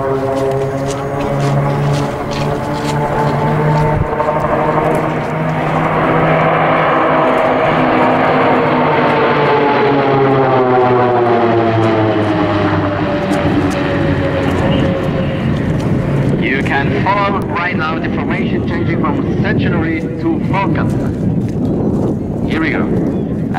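Swiss PC-7 team propeller planes fly a formation display at an air show, their engine drone rising and shifting in pitch as they pass overhead, loud and sustained, fading into a broader roar near the end.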